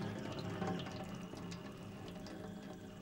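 Water runs from a tap in an even, continuous hiss and splash, fairly quiet and close, with no voices over it.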